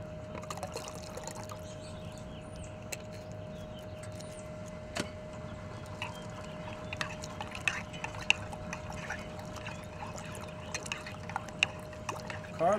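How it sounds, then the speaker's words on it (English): Water poured and dripping into a cooking pot of chicken legs, with soft trickles and scattered drips over a steady background hum, close and faint, with no talking. "I think I may add another cup of water to it."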